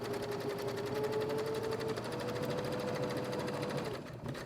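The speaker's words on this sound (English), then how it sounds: "Now we're going to sew our strips together, and we're going to use the outside edge of our foot" Sewing machine running steadily as it stitches fabric strips together for a pieced Christmas tree ornament, a continuous close mechanical whir that slows and stops near the end.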